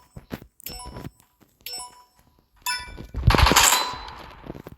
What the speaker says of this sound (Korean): M249 이 총으로 바꿔주신 다음에 노파츠입니다 지금 여기서 훈련합니다